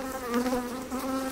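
Honey bees buzz steadily at an opened beehive, a close, droning hum with wavering pitch, fairly faint and continuous with no talking.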